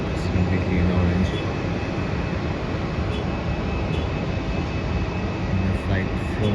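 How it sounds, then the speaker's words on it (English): A Jetstar Airbus A320 in orange 10th-anniversary livery at Melbourne Airport makes a steady, broadband jet roar that holds at a constant level throughout, with a faint high whine on top. "that is Jetstar Airbus A320, and the livery is the 10th anniversary of Jetstar"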